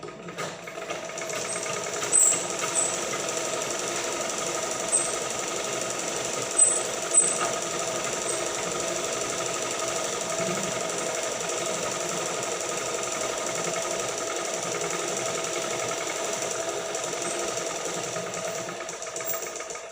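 A sewing machine stitches a fabric strip in a steady, continuous mechanical whir that runs loud and unbroken throughout, with a few brief louder knocks.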